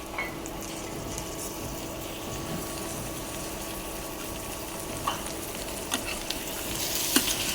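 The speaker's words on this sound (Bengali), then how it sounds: "তো এখন এই পর্যায়ে আমি এখন শুটকি দিয়ে দিব।" Shutki, dried fish, sizzles and fries steadily in a pan for a Bengali dish, with a constant hiss, occasional stirring clicks and scrapes, and close, moderately loud sound with no talking.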